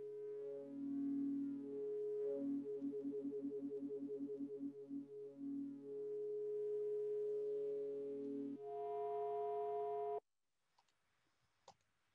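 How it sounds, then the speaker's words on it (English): A pulse width modulation tone from a VCV Rack modular synthesizer drones steadily with buzzy harmonics, briefly stuttering into rapid rhythmic pulses before holding a pitch, then shifting higher and cutting off into near silence with a faint click. "That's the pulse width modulation."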